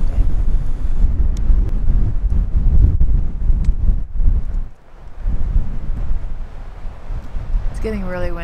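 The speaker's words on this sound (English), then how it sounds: "It's getting really windy." Strong wind on a remote Northern California golf course buffets the microphone in loud, continuous gusts that briefly ease midway. A high whistling chirp comes at the very end.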